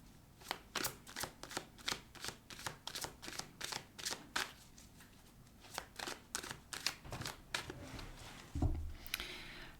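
Deck of tarot cards shuffled by hand for a weekly reading, a long run of crisp riffling bursts in a steady rhythm, close and clear, ending in a louder knock and rustle.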